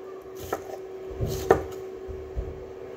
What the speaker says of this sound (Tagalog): mag-cut na tayo ng salata